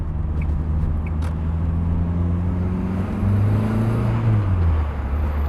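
A non-turbo Volvo 480 being driven on the road, a steady in-car engine drone with a low hum that swells and rises in pitch as it accelerates, then eases back, continuous throughout and heard from inside the cabin.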